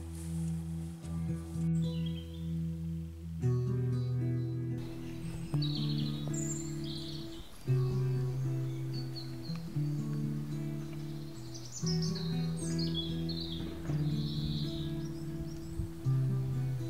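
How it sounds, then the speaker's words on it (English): Songbirds chirp and twitter on a countryside walk at Heswall Dales, scattered short high calls coming and going over a steady tonal background hum. "Some lovely views, lovely bird song."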